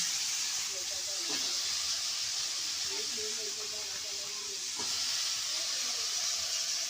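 Potatoes fry in a wok over a wood-fired clay stove, giving a steady, loud broadband hiss and sizzle that runs throughout, with faint scraping or stirring touches and a brief voice in the background.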